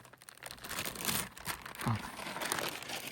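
A plastic bag wrapped around a grafted hazelnut sapling's roots being cut and pulled away at a planting hole, giving continuous close crinkling and crumpling with rustling surges, no talk over it.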